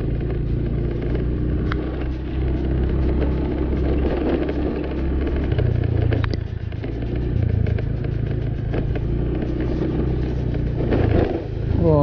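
Trucks and other vehicles pass close by on a road, their engines rumbling and clattering continuously with rising and falling revs and no speech.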